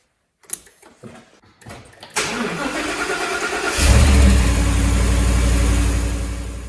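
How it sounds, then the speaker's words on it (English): Cold Ford Raptor turned over on a jump starter: a few clicks and cranking bursts, then the engine catches with a loud roar and settles into a steady, heavy idle close by. "I reconnected it to the Raptor after 2 hours and turned the key."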